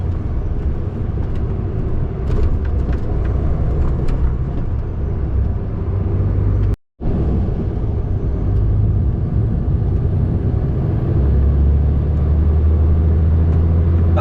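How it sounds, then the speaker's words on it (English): Cars rush fast along a busy road in a constant loud rumbling roar that cuts out for a moment midway, then swells again. No one speaks. "So you always get cars flying up and down this bit."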